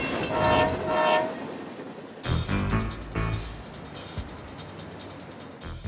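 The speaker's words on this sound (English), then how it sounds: "The train's coming, here it is." A train rolls past with a loud blast of its horn, followed by the heavy rumble and clatter of cars going by close at hand.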